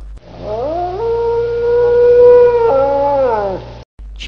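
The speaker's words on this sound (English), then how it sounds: "Wolf." A wolf gives one long, sustained howl that rises, holds steady, then steps down in pitch before cutting off. It is loud, close and unaccompanied.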